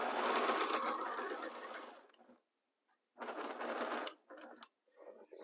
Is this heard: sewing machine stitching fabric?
yes